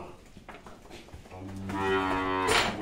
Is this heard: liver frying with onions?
no